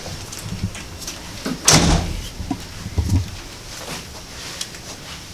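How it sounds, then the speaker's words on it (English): A heavy balcony door on the Carnival Mardi Gras cruise ship swings shut with one loud, close thud, followed by faint rustling and small knocks in a quiet cabin. "Those doors are heavy."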